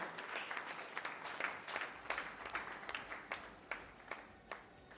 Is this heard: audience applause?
yes